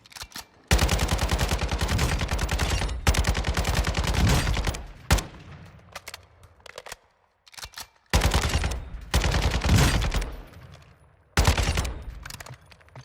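Rapid automatic assault rifle fire in the video game Modern Warfare II DMZ, several long loud bursts separated by short pauses and a few single shots, close and dominant.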